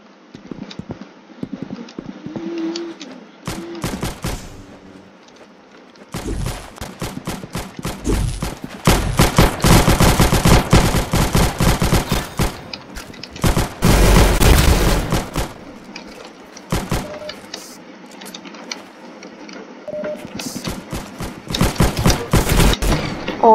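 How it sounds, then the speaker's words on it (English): Rapid gunfire from the first gun in Roblox Arsenal, scattered clicks and shots building into dense sustained bursts midway, then sparser reports, with game effects and footsteps in the mix. "This is the best first gun in the game"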